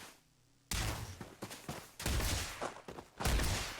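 Gunfire from a weapon in the Starfield video game, fired at a person: a burst of loud, close shots after a quiet start, coming in rapid clusters with short gaps over a few seconds.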